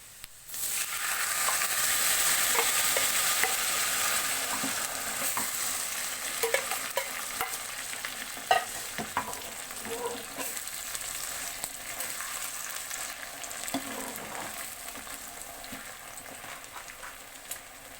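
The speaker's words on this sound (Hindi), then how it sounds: "अब मैं इसमें साग डालने जा रही हूँ।" Mustard greens and bathua greens sizzle and fry in a pan as they are stirred, a steady broad hiss with scattered scrapes and clicks of the spoon throughout, close and continuous with no talking.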